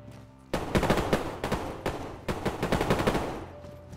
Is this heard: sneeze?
no